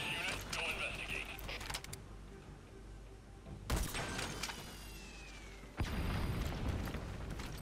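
Explosive bursts and mechanical crackles as a UAV is shot down in Metal Gear Solid V, two sharp loud impacts a couple of seconds apart, each trailing into noisy rumble, with a voice talking over parts of it.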